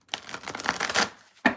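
Tarot cards being shuffled up close, a soft run of rapid papery riffles followed by a brief pause and one sharper card snap at the end.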